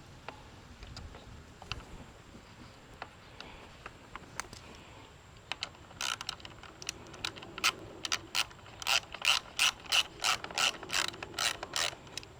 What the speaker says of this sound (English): I'm just gonna put one of the bolts in without the Loctite in order to get this started